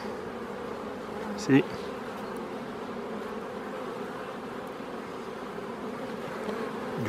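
Honeybees hum steadily inside an opened hive during a spring inspection, a dense, even drone close by and unbroken for the whole span, with a brief louder knock and a short spoken word partway through.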